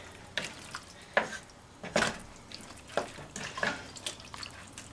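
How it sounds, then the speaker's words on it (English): A spoon stirs green bean stew (lubia) in a cooking pot, with a series of spaced scraping and clinking strokes against the pot over a faint simmering hiss, close and fairly quiet. "Let's mix it up and see what it looks like."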